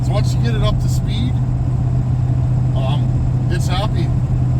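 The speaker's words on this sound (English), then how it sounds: "this truck is just cruising down the highway" A vintage diesel truck cruises steadily down the highway towing a trailer, its low engine drone loud and constant throughout, with someone talking over it.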